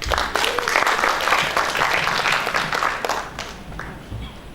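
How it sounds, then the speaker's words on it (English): Conference audience applauding after a keynote session at a materials and metallurgical engineering conference, a full round of clapping that swells early and slowly fades, with a voice briefly heard over it. "Let's give another round of applause."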